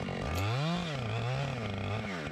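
A Husqvarna 592 XPG chainsaw fells a tree, its engine loud and close, running steadily with the pitch rising and falling as it revs and bogs down in the cut.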